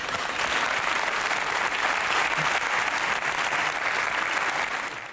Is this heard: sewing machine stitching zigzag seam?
no